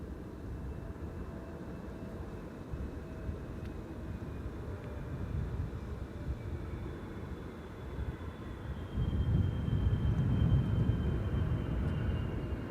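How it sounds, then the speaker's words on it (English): A KLM Boeing 777 lands in a crosswind at Amsterdam Schiphol with idle reverse thrust, a steady distant jet roar that swells louder about two-thirds through and holds to the end, with no voices. "Idle reverse landing"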